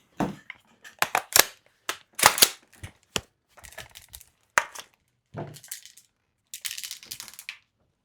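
Well Pro KS-1 BB gun being dry fired, a sequence of sharp close mechanical clicks and snaps separated by short pauses, with some rattling handling noise in between.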